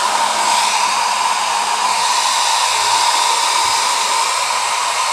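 A handheld hair dryer bought online runs steadily at close range, a loud continuous airy whoosh with a faint motor whine and no pauses.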